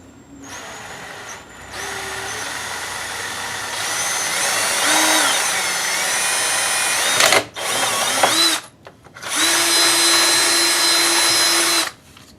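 A power drill whirs steadily, boring a 1/4-inch hole in several long runs while installing an oil catch can on a Ford EcoBoost, broken by brief pauses and a short stop before a final sustained burst.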